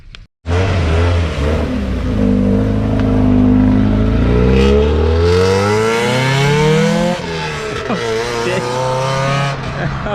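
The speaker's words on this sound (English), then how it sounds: "That thing is freaking loud. Backfiring right now." Loud Nissan Skyline R32 GTR engine revving hard nearby, rising and falling in pitch as it accelerates past, with sharp exhaust crackles.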